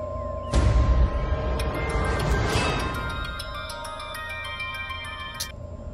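A mobile phone rings for an incoming call in a Telugu film scene, a repeating melodic ringtone with bright tones sounding steadily at moderate volume, with no talking over it.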